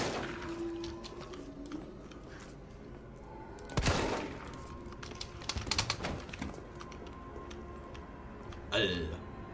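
A few sharp bursts of gunfire in Resident Evil 3, the loudest around the middle and one near the end, with other clattering effects between them.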